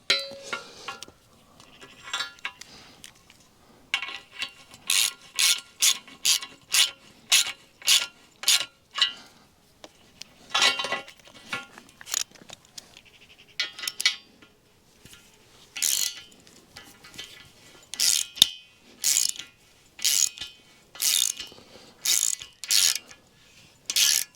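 A ratchet tightens bolts on driveway gate hinges in quick bursts of sharp clicking strokes separated by short pauses, close and clear with no talk.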